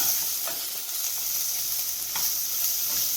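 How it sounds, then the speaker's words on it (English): Onions turning golden fry in a pan for Italian-style zucchini, a continuous dense sizzle with soft rhythmic stirring scrapes every second or so. "the onions are turning golden color"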